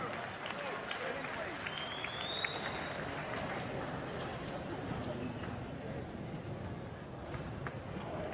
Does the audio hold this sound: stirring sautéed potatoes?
no